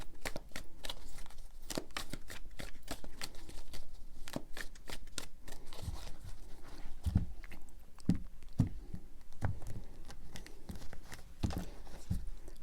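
A deck of tarot cards is shuffled by hand three times in a long run of crisp riffling flicks and soft taps, close and steady, with brief pauses and no talk.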